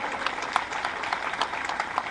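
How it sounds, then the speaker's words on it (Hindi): An audience at an Advocates Day programme bursts into lively applause, a thick, continuous rattle of many hands clapping, fairly close and even throughout. "तो एक बार जोरदार तालियां आप सभी के लिए।"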